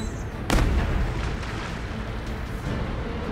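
Explosive weapons fire erupts in Anno 2205 with a sharp, loud boom about half a second in, followed by a rumbling, sustained wash of battle noise that lingers at steady volume.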